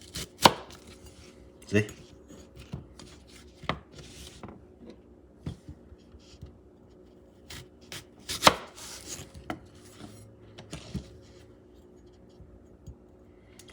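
A knife slices through thick plantain on a board for a shrimp tostones sandwich, giving sharp irregular chops spaced a second or so apart, close and fairly quiet, with one brief spoken word.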